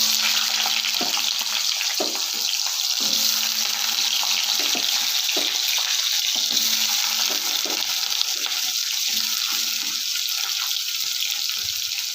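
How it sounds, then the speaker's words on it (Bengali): Potatoes frying in hot oil with dried red chili and panch phoron for a Bengali spinach ghonto, a steady close crackling sizzle with scattered clinks and scrapes of stirring throughout. "একটু আলুটা দিয়ে একটু ভাজা করতে হবে"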